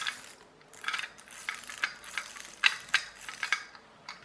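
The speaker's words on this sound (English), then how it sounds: "release string, that gear drops down, makes contact with the gear on the axle, and the wheels spin" A pull-cord toy car's gear drops onto the axle gear and the wheels spin, giving close, rapid ratcheting clicks and small mechanical whirs in short uneven bursts.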